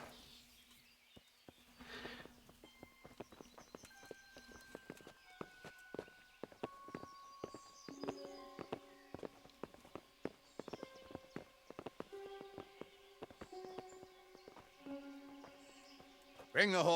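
Horse hooves in the video game Kingdom Come: Deliverance clip-clop at a walking pace over a layered game soundtrack of tones and ambient noise, with some talk mixed in.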